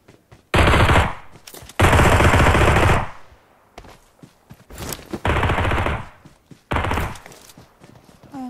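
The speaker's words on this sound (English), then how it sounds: "Where are they shooting?" Automatic gunfire in an online shooter game, several loud bursts of rapid shots separated by short pauses with scattered single shots between, close and dominant.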